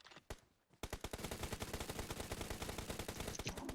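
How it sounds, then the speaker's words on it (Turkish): Akrep (Skorpion) submachine gun fire in the PUBG Mobile video game: a brief pair of shots, a short pause, then a rapid, sustained automatic burst of evenly spaced cracks, loud and close. "Valla akrep güzel vuruyor abi."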